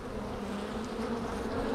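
Honey bees buzz in an open hive during an inspection, a close, continuous, moderately loud droning hum.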